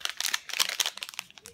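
Crisp crinkling and tearing of a thin foil or plastic oolong tea packet being ripped open by hand, a quick series of rustling bursts up close.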